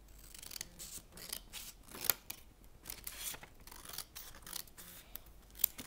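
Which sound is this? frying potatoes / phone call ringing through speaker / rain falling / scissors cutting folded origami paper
scissors cutting folded origami paper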